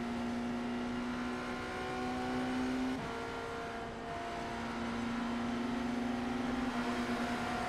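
Race car engine held at half throttle in a racing game, a steady sustained drone with a slight pitch shift midway, continuous and even, with no talk.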